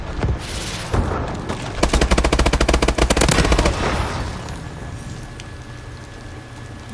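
Gunfire in Call of Duty: Advanced Warfare, a rapid run of sharp close shots in quick succession lasting about two seconds, with booming impacts and a fading rumble after, loud and with no speech over it.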